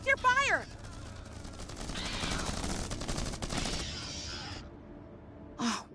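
Sustained rapid gunfire from the Starship Troopers: Terran Command game fills a busy battle scene, loud bursts layered under shouting voices and creature cries, with a brief gasp at the start and a sharp burst near the end.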